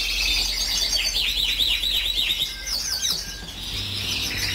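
Birds chirp and tweet in a busy overlapping chorus, rapid high trills and calls repeating throughout at moderate loudness over a low steady hum.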